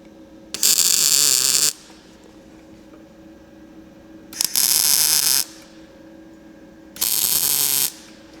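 Three short bursts of tack welding from a cheap PUWU MIG welder, each a loud, steady crackling hiss lasting about a second with a low hum between bursts; no talking.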